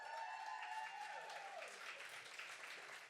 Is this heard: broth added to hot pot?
no